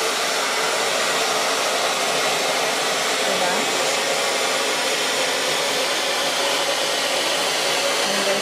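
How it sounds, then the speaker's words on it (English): A hair dryer blows loudly and continuously while drying long hair, a steady broadband whoosh that holds for the whole stretch. "So always blow dry it away from your face. Blow dry it again to the end."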